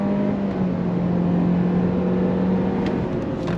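A 2023 Honda CR-V with a turbo engine pulls hard in sport mode, its engine drone steady and close from inside the cabin, with a simulated shift change near the end.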